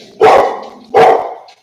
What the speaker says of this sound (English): they're my dogs. They heard some noise outside.